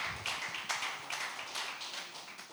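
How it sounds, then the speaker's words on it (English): Audience applause fills the space, a steady round of clapping with dense overlapping claps, fairly loud and continuous with no talk over it. "Another round of applause, please."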